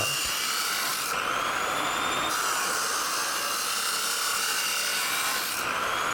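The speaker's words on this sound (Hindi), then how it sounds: "पाइप पर कट लगाएंगे एक सिरे से लेकर दूसरे सिरे तक।" A metal pipe being cut with slits along its length, a steady, continuous rasping and grinding scrape with no pauses, loud and close, no talking.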